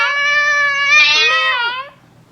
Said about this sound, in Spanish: Ese animalito es el gato.